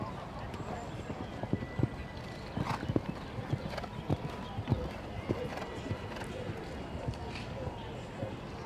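Horse hooves clip-clop in a steady galloping rhythm across a showjumping arena during a round at an international event, with occasional louder footfalls and a commentator talking over it.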